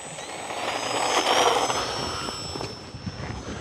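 An FMS F4U Corsair V2 800mm RC model airplane on a 2S 1300 battery, no flaps, taking off at half throttle: a steady electric motor and propeller whine that swells and recedes outdoors, with no talking.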